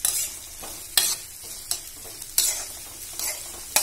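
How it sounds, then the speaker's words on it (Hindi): Onions frying for baingan bharta, a steady sizzle broken by sharp stirring scrapes about every three quarters of a second, close and fairly quiet, with no voices. "प्याज को भूनने में थोड़ा सा 1 मिनट लग सकता है।"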